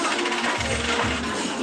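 Coins clinking and jingling as change is handed over after buying halo-halo at a birthday celebration meal, a few close metallic rattles in quick succession.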